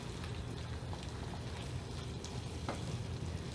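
Couscous sauce with tomato and chickpeas sizzles steadily in a pan while being stirred, a constant close crackling hiss with faint scraping underneath and no talking.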